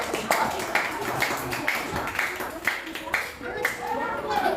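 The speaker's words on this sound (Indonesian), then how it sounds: "Nah, tepuk tangan dulu untuk perwakilan dari kelompok." Classroom clapping for a group representative, a rhythmic series of evenly spaced claps in unison from pupils, fairly quiet, with faint voices in the room.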